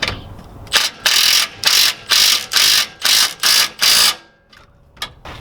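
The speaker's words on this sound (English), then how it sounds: "ratchet, and I'm gonna just tighten it." A ratchet wrench snugs a lift kit bolt near the upper control arm of a Lexus GX470 with a 3-inch lift, giving seven close, loud bursts of rapid clicking in a steady rhythm, then a few faint ticks.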